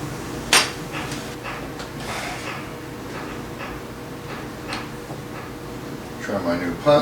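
A hammer drives a punch through a rawhide taiko drum head, with a few sharp, separate strikes and softer knocks among them. A person talks over part of it.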